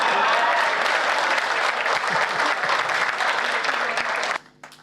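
An audience claps at a Hindi comedy poetry gathering, a dense sustained roar of applause that holds steady for several seconds before cutting off sharply into quiet.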